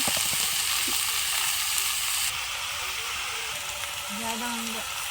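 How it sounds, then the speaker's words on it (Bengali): Raw chickpeas with onion fry in a pan, making a steady, close hiss and sizzle with a faint tonal hum late in the clip. "কাঁচা ছোলাগুলো দিলাম।"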